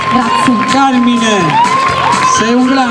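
Audience cheering and whooping for Carmine's father at a televised Saranno Famosi talent show in 2014, loud and close, mixed with excited voices and shouting over the crowd.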